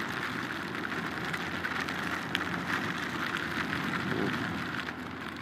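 Steady rain falling outdoors on a street, an even, moderately faint hiss of drops on surfaces with a faint low rumble beneath, no voices.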